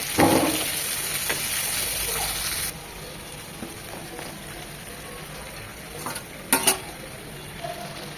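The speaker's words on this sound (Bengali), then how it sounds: "যে মশলাটুকু ছিল সেই মশলাটুকু দিয়ে আবার একদম ভুনা ভুনা করে নেব চিকেনটাকে এই তেলের মধ্যেই।" Chicken fries in oil with spices, a soft sizzle broken by stirring scrapes and a few sharp clinks of a utensil against the pan.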